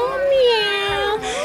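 A child imitates a cat, voicing a drawn-out sliding meow close to the mic rather than a true purr, one continuous call.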